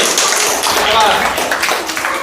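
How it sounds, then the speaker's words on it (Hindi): Children in a classroom clap for a classmate who solved a maths problem, with steady, close clapping filling the moment and a voice briefly audible in the mix. "वेरी गुड, तालियां बजाएं इसके लिए।"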